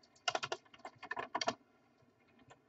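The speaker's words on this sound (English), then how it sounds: "I'm going to type in plugins" Keys on a computer keyboard are tapped in two quick bursts of clicks, close and clear, followed by a quiet pause.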